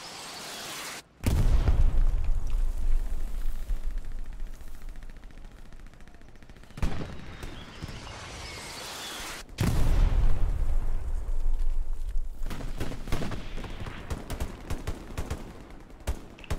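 Gunfire and explosions in a WWII shooter game at Sainte-Mère-Église, with heavy booms and dense bursts of shots that roll on continuously, loud and close, after a brief quiet start.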